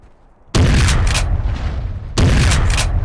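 Video game gunfire in Jurassic Park: Trespasser as velociraptors are shot, with two loud, booming blasts, the second about one and a half seconds after the first, each followed by a sustained rumbling decay.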